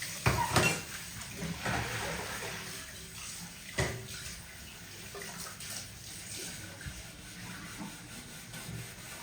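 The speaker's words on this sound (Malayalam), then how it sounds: "ഞാൻ പാത്രം കഴുകാണ് കേട്ടോ" Dishes and pots being hand-washed with water: steady splashing and rubbing with a few sharp clinks near the start and around the four-second mark, close and moderately loud, with no talking.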